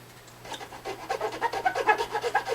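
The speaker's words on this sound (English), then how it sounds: "Like I say, those files, they dig in, man." A metal file rasps against a plastic guitar nut in quick back-and-forth strokes, close and fairly loud, building into a steady rhythmic scraping with no talk.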